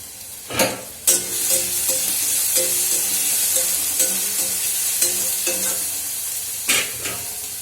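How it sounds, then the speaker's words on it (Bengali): Steady loud sizzling of onion, ginger and garlic frying in a pan, broken by a few sharp clanks from a spatula stirring against the metal. "পেঁয়াজটা ভাজা হোক, আদা রসুনটা ভাজা হোক"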